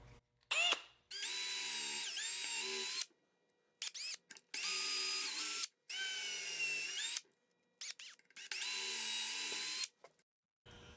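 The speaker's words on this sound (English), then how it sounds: "I'll use a 1/16 inch drill bit and drill a hole through the front of the drawer." A power drill with a 1/16 inch bit bores through the front of a wooden drawer in three long bursts with short pauses between, loud and close, its pitch sagging slightly as the bit bites into wood.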